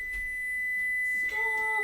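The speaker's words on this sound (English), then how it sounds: "The timer went off" Kitchen timer going off during bread baking: a steady, faint electronic tone holding for a couple of seconds in a quiet room, then shifting to a second pitch near the end.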